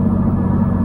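An old-school 1.6-litre car weighing 800 kg, with twin cams and 130 hp, its engine roaring; a loud, steady, deep rumble heard up close for a brief moment with no talk.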